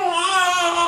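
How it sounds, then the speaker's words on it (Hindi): A baby left on a railway track in a cartoon story cries loudly, a single sustained bright wail with harmonic tone lasting under a second. "वह बच्चा जोर जोर से रोने लगता है।"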